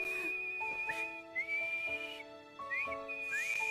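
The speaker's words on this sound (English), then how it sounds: "He's got the whistle of an angel." Clear, close whistling traces a melody of sustained tones with quick upward slides between notes, running steadily for a few seconds with no talking.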